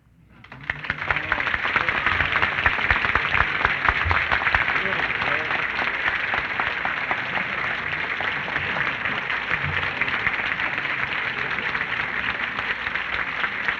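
Sustained audience applause fills a luncheon room, dense and steady clapping that swells in and holds for the whole span with some voices mixed underneath.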